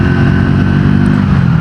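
A Triumph Tracker 400 motorcycle runs at high speed near its 150–160 km/h maximum, its engine holding a loud, steady drone without a break.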